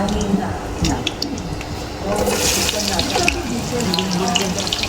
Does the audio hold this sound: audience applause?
no